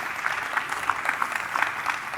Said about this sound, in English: I'd like that we put our hands together especially for David.